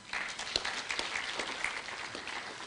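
Audience at a project launch clapping for a group of newly trained trainers, a lively, fairly close round of applause with distinct individual claps standing out, sustained throughout.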